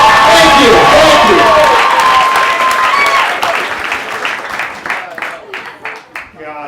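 A comedy club audience at the Laugh Factory bursts into loud, dense applause that thins out into scattered individual claps as it fades toward the end.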